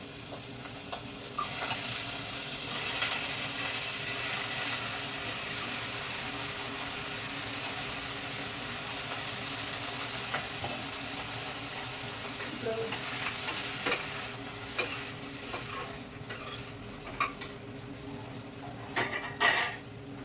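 Tempering spices sizzle and fry steadily in a stainless steel pan, with a soft, continuous crackle. Later, scattered clinks of a stirring utensil against the metal rise above it, and no one speaks.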